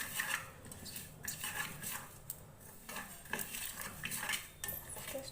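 Dry red chillies, mustard seeds and cumin roast in a pan over a gas flame while a spatula stirs them, giving quiet bursts of scraping and rattling against the metal.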